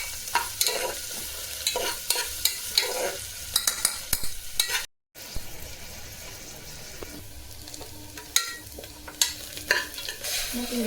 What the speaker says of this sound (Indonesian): Bisa tumis ya. Bawang merah sama bawang putihnya.